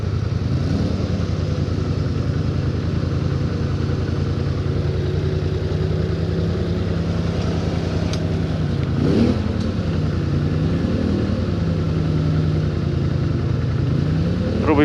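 A Polaris Sportsman High Lifter ATV engine runs loud and close in mud, holding a steady throaty drone with rising and falling revs and brief surges.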